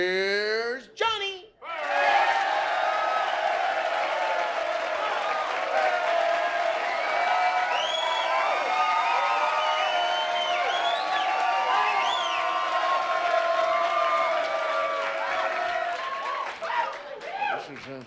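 A studio audience at a stand-up comedy set applauds and cheers loudly and steadily, with whoops and shouting voices rising over the clapping for the full stretch. It starts after a brief dip and fades slightly at the end.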